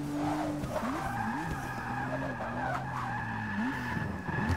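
Race car tires squealing and skidding in Forza Motorsport 6 at a Rio de Janeiro circuit, a steady wavering screech over engine drone for several seconds, with no talking.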